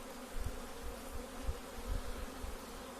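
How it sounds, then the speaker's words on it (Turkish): Caucasian honeybees buzz in a swarm around a man's face, a steady close drone with soft low bumps and thumps scattered through it, no speech. "Kafkas arısı e, dünyanın dört ırkından bir tanesidir"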